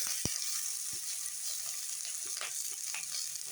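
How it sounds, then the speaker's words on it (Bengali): Potatoes and green chillies fry in hot oil in a wok, giving a constant close sizzle with a few soft knocks of stirring, no talking. "এটা প্রথমে আমি কড়াই দিয়ে ভাজবো।"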